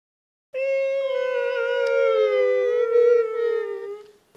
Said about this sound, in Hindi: अरे ये तो 2 कुत्ते रो रहे